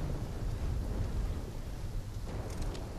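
A storm in Call of Duty Black Ops 3 gives a constant dense roar of wind and rain with a heavy low rumble, loud and unbroken throughout.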